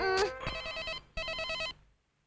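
A telephone bell rings in two short bursts of bright trilling, separated by a brief gap, fairly close and moderately loud, with a faint high sweep at the start and no voices.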